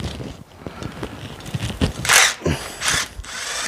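A ratchet wrench clicks steadily while backing out transmission pan bolts on a 1969 Buick Skylark, close and fairly loud, with bursts of rapid pawl clicking and a few louder sustained stretches.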